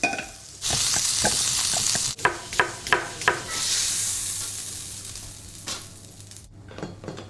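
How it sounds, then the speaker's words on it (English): Barbecue-style sauce heating in a pan for a homemade McRib, a loud steady sizzle broken by a run of quick utensil scrapes and taps as it is stirred, then fading to a softer bubbling hiss. "so we will also heat up the sauce"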